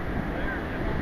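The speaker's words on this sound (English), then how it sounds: "The wind is light." Steady light wind outdoors beside open water, a soft continuous rush with gentle low buffeting on the microphone and faint surf beneath, no other distinct sounds.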